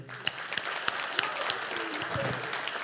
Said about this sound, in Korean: 영광의 박수 하나님께